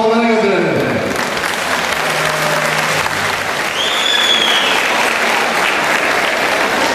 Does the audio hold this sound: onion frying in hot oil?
no